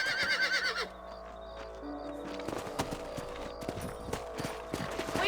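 In Red Dead Redemption, hooves clip-clop in a quick, steady rhythm after a horse neighs, with a low ambient hum underneath.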